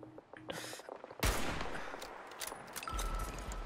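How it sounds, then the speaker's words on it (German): Gunfire rings out in the Fallout 76 battle royale mode: a few faint, scattered shots give way to one sharp, loud burst followed by a rolling, decaying rumble and further distant reports. "Ich höre Schüsse."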